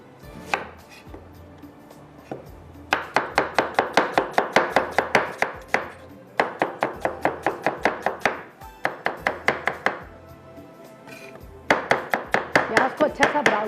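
An onion is chopped on a board in a home kitchen, with bursts of rapid, evenly spaced knife strikes of about a dozen each, separated by short pauses, close and crisp.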